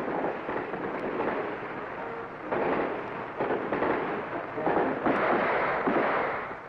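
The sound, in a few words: gunfire at a military shooting range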